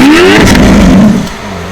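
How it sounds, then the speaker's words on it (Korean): A Lamborghini Aventador S with a V12 engine revs loudly and up close through its triple rear exhaust outlets, rising sharply and then holding a steady roar before easing slightly. No one speaks. "배기음 한번 들어보겠습니다"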